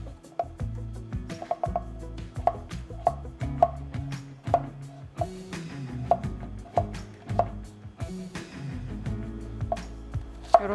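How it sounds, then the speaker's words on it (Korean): A knife chops potatoes and other vegetables on a cutting board in a Korean home kitchen, giving a steady series of crisp, close taps at an uneven rhythm, with no talking. "이런 식으로 잘라 보겠습니다."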